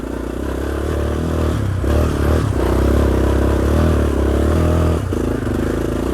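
Yamaha Raptor 350 quad engine running loud and steady while riding, a throaty drone with rumbling low harmonics and brief dips as the throttle eases, plus faint clatter from the machine.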